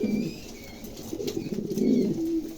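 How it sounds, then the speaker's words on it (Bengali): Tiger pigeons coo softly and steadily, a low murmuring call repeating close by with faint chirps above, heard alone without speech. "দর্শক, এখানে একটা টাইগার ফিমেল আছে, দেখছেন, চমৎকার, খুবই চমৎকার একটা কবুতর"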